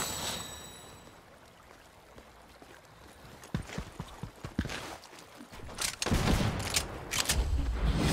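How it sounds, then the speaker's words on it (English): Gunfire in the video game Fortnite: loud, sharp shots crack out in scattered bursts through the second half, over a low background rumble. "Who's shooting?"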